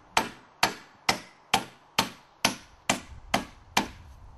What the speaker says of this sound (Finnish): Naulaa reivapuun alapää alasidepuuhun kiinni.